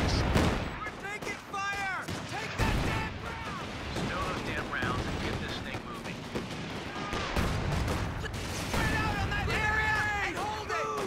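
Calliope rocket artillery barrages in a Company of Heroes 2 4v4 urban battle, dense overlapping launches and impacts rolling continuously alongside other gunfire, with a player talking over the din.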